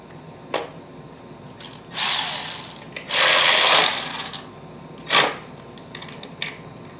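Power tool whirring in several short bursts while tightening a new cooling fan on a Pontiac G8, with two longer loud runs in the middle and brief clicks between.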